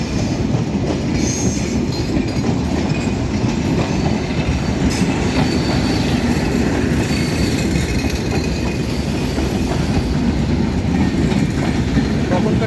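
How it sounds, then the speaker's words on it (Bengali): Kapotaksha passenger train rolling into Ishwardi railway station, a loud continuous rumble of wheels and carriages with clickety-clack and faint squeal, close by and unbroken throughout. "এই যে দেখতে পাচ্ছি আমরা যে একটা ট্রেন আসছে, এটা যত সম্ভব কপোতাক্ষ ট্রেনটি"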